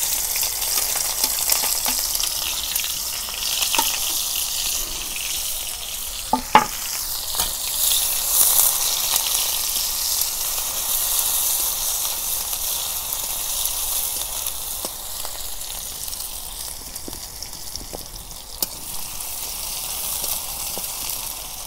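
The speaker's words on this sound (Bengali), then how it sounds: "আর পেঁয়াজ কুচি দিয়ে দিই।" Chopped onions fry in hot mustard oil in a kadai, giving a steady, loud sizzle with bubbling and occasional stirring scrapes throughout, with no voices.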